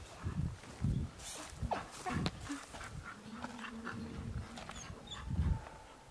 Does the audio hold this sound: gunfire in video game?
no